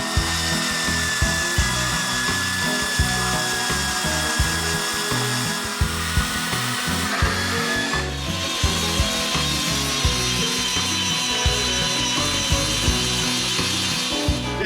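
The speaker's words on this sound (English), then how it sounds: "we're gonna go ahead and cut what's left of this keyway off and then grind down the welds" Power-tool cutting and grinding on a steel sprocket keyway and its welds, a continuous loud harsh whine with a rhythmic rasping pulse throughout.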